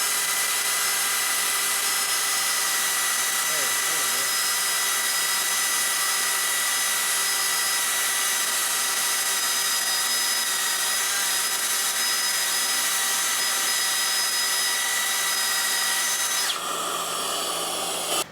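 Milwaukee M18 cordless belt sander running steadily with dust extraction sucking through the back, a continuous loud whine and hum that holds for most of the stretch before shifting abruptly near the end.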